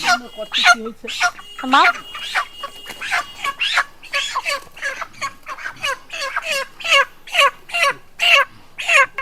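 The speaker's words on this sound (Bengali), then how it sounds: "মুরগির দোকানে যাই গিয়ে মুরগিটা কিনে নিয়ে আসি" Chickens at a poultry shop give a rapid series of loud, harsh clucks and squawks close by, overlapping and growing more regular toward the end.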